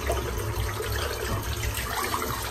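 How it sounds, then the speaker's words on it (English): Water runs steadily from a tap as a shaving brush is rinsed, a continuous close splashing wash with no break and no voices. "Just rinsing the brush out."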